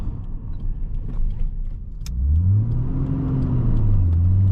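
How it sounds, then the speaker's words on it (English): A manual-transmission car engine revs up during a downshift, jumping from a low idle to a loud rising whine about halfway through and holding there. "Yeah, I revved it a little too much there."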